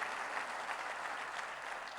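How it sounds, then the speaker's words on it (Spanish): A church congregation applauds during a sermon, steady dense clapping from many people at moderate volume that lasts the whole moment. "¿Quién da un aplauso al Señor por eso?"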